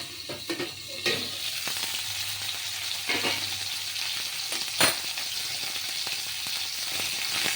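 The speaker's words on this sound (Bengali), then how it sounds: "ভীষণ ফাটে, তাই একটু ঢাকা দিয়ে দিলাম আমি, যাতে গায়ে ছিটে না আসে" Tangra fish fries in hot oil in a covered pan, giving a steady, dense sizzle with scattered sharp pops and spatters throughout, no talking.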